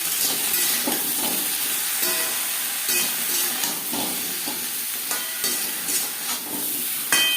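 Potato and pointed gourd frying together in a pan with salt and turmeric, a continuous sizzle with intermittent stirring scrapes close by, no talking.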